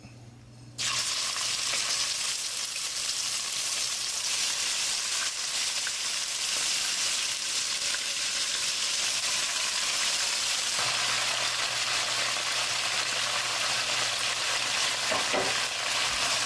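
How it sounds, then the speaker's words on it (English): Turtle meat browns in heated oil, a loud, continuous close-up sizzle that starts abruptly after a brief quiet moment and holds steady throughout. "let's go ahead and take our turtle meat and start browning it"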